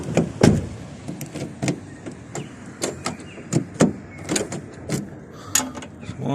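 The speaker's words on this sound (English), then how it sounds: "Lock the car. Unlock the car." Central locking of a 2010 Mazda BT-50 being locked and unlocked repeatedly with a new key: a steady series of sharp mechanical clunks and clicks about every half second, close by, with no voices.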